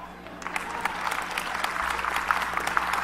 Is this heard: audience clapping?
yes